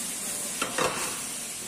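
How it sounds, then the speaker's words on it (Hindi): Green, red and yellow capsicum with mixed vegetables sautéed in a pan for chicken chop suey, a steady sizzle broken by two short scraping stirs close by, no talking. "और ये capsicum, green capsicum, red capsicum, yellow, सब डाल के अच्छा से सौते करना है"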